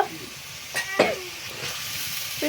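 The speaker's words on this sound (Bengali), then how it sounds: "এবারে এই যে চিকেনটা দিয়ে দিল গাইস, দেখুন চিকেনটা দিয়ে দিল" Chicken frying in a pan with spices: a steady sizzle and hiss with a few scraping stirs, close and moderately loud, no talk.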